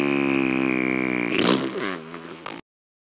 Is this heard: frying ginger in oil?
no